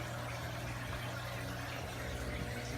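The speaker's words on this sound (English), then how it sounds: "sorry about the water noise in the background" Constant low trickling and running water in the background from an aquarium tank, steady and fairly faint, like a tank filter splashing.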